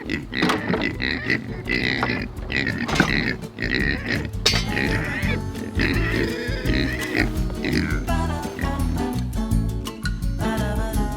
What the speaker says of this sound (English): Pigs are hot. Let's water some pigs now.